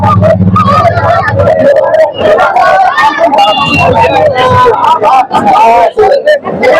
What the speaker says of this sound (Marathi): मोठ्या प्रमाणात या ठिकाणी जल्लोष होते आहे